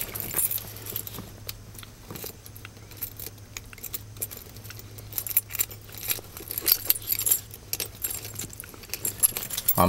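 A bunch of keys jangles and clinks repeatedly in bursts for several seconds, close and fairly loud, while a low engine-like hum runs steadily beneath, beside a 1970 Ford Mustang Mach 1.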